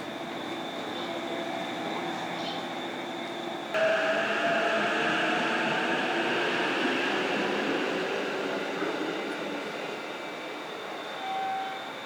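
Commuter train running from Tokyo toward Mount Fuji, a steady broadband rumble of wheels and carriage noise that rises in loudness partway through and stays continuous, with faint tonal whines and no talk.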